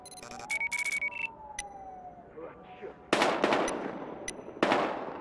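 Bursts of gunfire ring out in the cop shooter game Battlefield Hardline, sharp cracks in clusters with a siren wailing early on, loud and close, with voices talking between shots.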